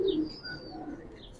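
Pigeons in a seller's loft, including a silver pair, give soft low cooing, fairly faint and steady, with a few thin higher chirps above and no talking.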